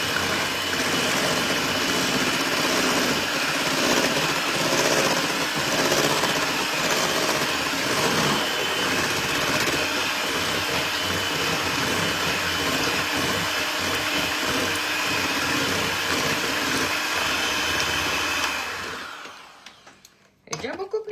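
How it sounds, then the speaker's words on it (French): An electric hand mixer beating batter for apple-heart cakes whirs steadily and loudly for about eighteen seconds, a continuous motor drone with a busy texture, then cuts off near the end. "Vous voyez, déjà avec le batteur électrique"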